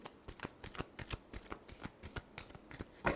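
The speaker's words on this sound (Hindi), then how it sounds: "Last shuffle, 2 of cups." A tarot deck being shuffled by hand up close, a series of quick crisp riffling snaps in a steady rhythm, each burst of card flicks separated by short pauses, with no talking.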